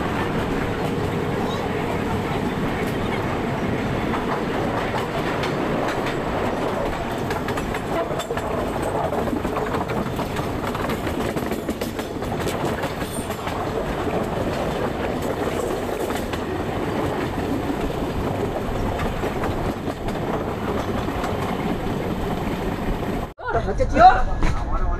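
Inside a moving Gitanjali Express passenger train from Mumbai to Howrah, a steady loud rumble and clickety-clack of wheels on rails fills the carriage, with a brief dip near the end.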